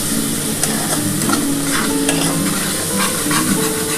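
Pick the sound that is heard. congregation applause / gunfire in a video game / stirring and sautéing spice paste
stirring and sautéing spice paste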